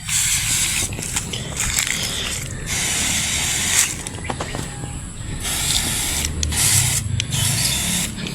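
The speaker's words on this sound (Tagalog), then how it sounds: "Ayan o. Oh. Ayan o. Oh. Ganyan po ang pag-spray." A hand sprayer applies herbicide to weeds, hissing in repeated bursts of spray with brief pauses and small mechanical clicks between them, close by and fairly loud.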